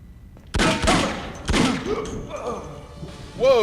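Gunshots ring out in a Cold War shooting game, two loud close shots a second apart followed by a softer thud and lingering clatter, with a person talking in the background toward the end.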